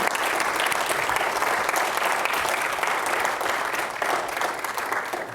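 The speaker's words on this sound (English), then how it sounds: "Round of applause for the Prime Minister." Sustained applause from a large audience, a thick, even wash of clapping with no pauses throughout.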